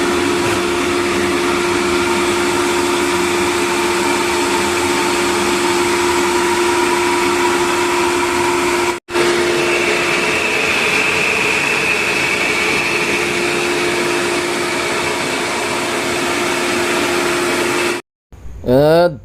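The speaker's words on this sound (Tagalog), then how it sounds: "Testing na kami ngayon ng mga motors kung gumagana na lahat ito." A loud swimming pool blower motor runs with a steady, high-pitched whirring drone, cutting out briefly once midway, then stopping near the end before a short restart.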